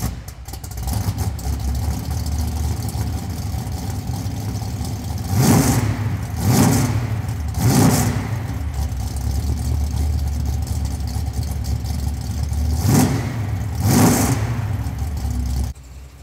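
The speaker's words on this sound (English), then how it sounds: "let's take this thing for a little drive so I can show you what that Hemi's all about" A 1965 Dodge Coronet with a 750-horsepower Hemi V8 driving, a loud steady engine drone broken by several sharp revving bursts as it accelerates and shifts.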